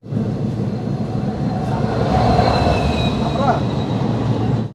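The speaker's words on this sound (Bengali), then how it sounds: "ট্রেন চলতে শুরু করে দিয়েছে" Teesta Torsa Express passenger train starting to move, a loud steady rumble of rolling wheels with faint squeals, heard close from inside the carriage.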